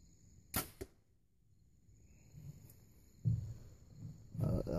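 A Bowtech Nitrum compound bow strung with new Winner's Choice strings shoots an arrow. A sharp close snap of the release comes first and a quick second knock follows. Later come duller thumps and rustles at the target, all fairly quiet outdoors.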